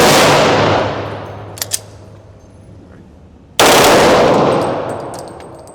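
A Smith & Wesson M&P 2.0 Pro Series pistol in .40 S&W, fitted with a Freedom trigger, fires Winchester 165 grain rounds in two loud, rapid bursts split by a short pause, each rattling string of shots trailing off into reverberation.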